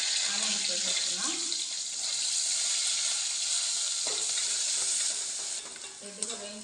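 Onions frying in a pan with ginger pieces for an Andhra-style purple chutney, a loud, constant sizzle with occasional stirring scrapes that eases slightly toward the end.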